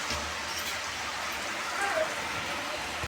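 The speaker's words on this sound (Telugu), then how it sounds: "అత్త బయట ఫుల్ వాన పడుతుంది" Heavy rain pouring outside, a steady dense hiss of falling water that stays even and unbroken throughout, heard from fairly close with no other clear sounds.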